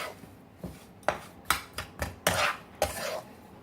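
Powdered sugar being stirred into roasted wheat flour in a metal pot for Sindhi atta ladoo, a spoon scraping and knocking against the vessel in several close, separate strokes with no talking.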